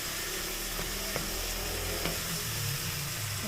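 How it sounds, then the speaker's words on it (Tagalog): Chicken sautéing in a pan with two tomatoes and two onions for kabsa, giving a steady close sizzle with a few soft stirring clicks, no voices. "Sangkutsa hanggat sa maluto ang manok."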